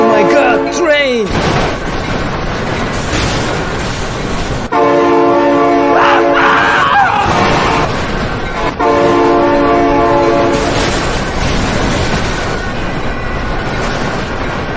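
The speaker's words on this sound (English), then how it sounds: "Oh my god, train!" A train in the driving game BeamNG.drive passes close by and sounds its horn in loud, repeated blasts over the rumble of the cars. An excited voice exclaims in the background.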